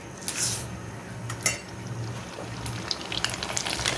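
Orange-coloured puffed rice frying in oil, a soft continuous sizzle with crackling pops and occasional metallic clinks of a utensil against the pan.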